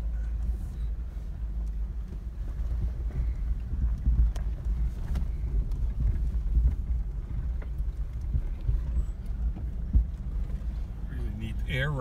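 Off-road buggies driving over rocky desert terrain at Borrego Springs, producing a continuous low engine rumble with jolts and bumps, and wind buffeting throughout.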